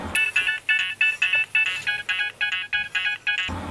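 A polyphonic mobile phone ringtone from an early colour-screen handset plays a bright, bouncy melody of about twelve evenly spaced electronic notes, loud and clear with no voices.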